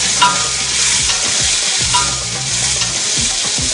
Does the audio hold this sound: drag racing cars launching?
no